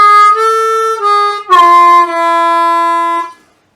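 A blues harmonica plays a short run through the Arabic gypsy double harmonic scale, reedy sustained notes stepping with a bent slide midway, close and alone.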